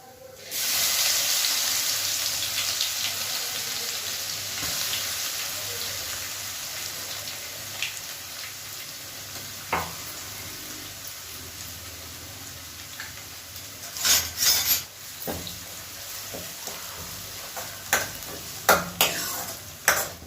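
Cumin seeds fry in hot oil in a pan, with a soft, steady sizzle and hiss that fades over time, broken by occasional sharper clinks and stirring scrapes near the end.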